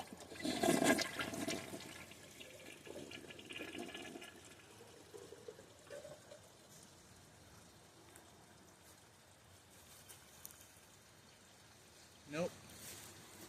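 A 2004 Kohler Kathryn toilet flushes nearby with a loud opening rush, then settles into a long, softer trickle as the bowl drains and refills, ending with a brief gurgle.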